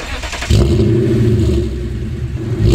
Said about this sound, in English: The V8 just pulls and pulls and pulls and pulls